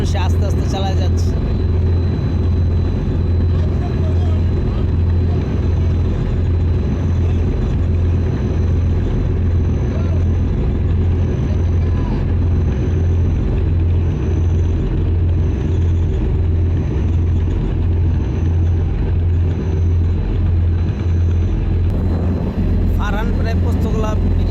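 Deep rumbling drone of a passenger launch's twin engines moving slowly along the river out of Sadarghat, Dhaka, a steady low throb with someone narrating over it throughout.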